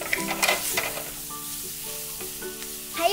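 A toy barbecue grilling carp, enoki mushrooms and chives gives a steady bright sizzle with a few light clicks and taps as pieces are flipped, close and fairly loud, no voices.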